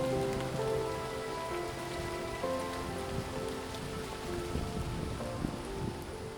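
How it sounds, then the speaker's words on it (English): Steady rain pattering on surfaces along a woodland waterfall trail, a continuous dense hiss with no talk. "seeing as we're on waterfall trails and it's raining,"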